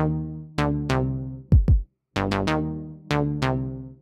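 Modular synth patch in Caustic with white noise fed through a resonant low-pass filter: a string of bright plucked notes, each sweeping down as the filter decays, including a quick low double-hit partway through.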